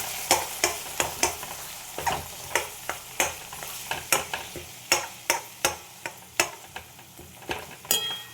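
Mashed pointed gourd and eggplant are worked together with onions by hand, giving a run of regular wet, squelchy pats and slaps, close and fairly loud, with no talk.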